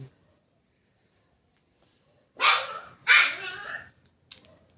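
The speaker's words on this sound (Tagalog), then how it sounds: "Yung maliit kong aso" A small dog gives two sharp, close barks in quick succession, followed by a faint short yip, with quiet background otherwise.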